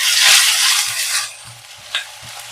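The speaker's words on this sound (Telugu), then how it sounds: "ఉల్లిపాయ కొంచెం మంచిగా వేగాలండి." Sliced onions frying in a pan with a pinch of salt, for a liver curry: a strong sizzle opens loud and fades as stirring continues, with soft scraping knocks spaced through the clip.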